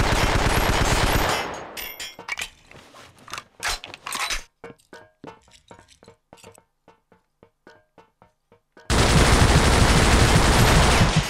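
Automatic and single gunfire in the Vietnam War shooter Vietcong, played in co-op: a loud sustained burst, then a run of sharp separate shots trailing off, before another dense roaring burst of fire.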